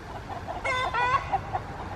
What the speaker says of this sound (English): And our chickens are freaking out.